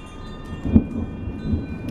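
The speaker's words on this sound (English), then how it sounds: "we are about to get one of the biggest thunderstorms this spring." Thunder rumbles low during a big spring thunderstorm, swelling in a single muffled roll around mid-clip over a steady hiss of rain, with no voices.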